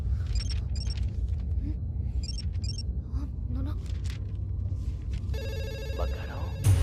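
A landline telephone rings in repeated electronic bursts, heard clearly in a quiet room with low background rumble, followed near the end by a denser, more continuous ringing tone.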